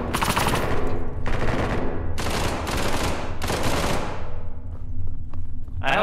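Video game gunfire rattles out in several loud automatic bursts, close and dominant, separated by brief gaps, with a fading tail at the end and no talk.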